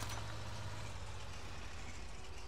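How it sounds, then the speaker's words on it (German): A bus engine in GTA 5 rumbles low and steady at close range, a continuous droning hum with a brief hiss near the start and no talk. "Ein Bus. Ich hoffe nicht zu weit weg."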